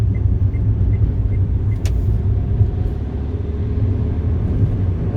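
A left-hand drive Renault Twingo Mk1 car drives along a UK road, with a steady loud engine and road rumble from inside the cabin that does not stop.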